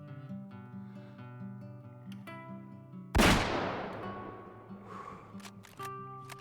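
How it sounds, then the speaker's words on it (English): Single sharp, loud rifle shot at a feral pig in a hunting video game, cutting across a soft musical background, its echo tailing off over a couple of seconds. "That should be a kill shot, and down he goes."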